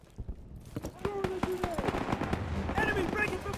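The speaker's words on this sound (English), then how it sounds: "Gunfire! We must be near our guys." Gunfire in the Call of Duty WW2 mission Death Factory, rapid bursts of shots crackling under someone shouting, with battle noise throughout.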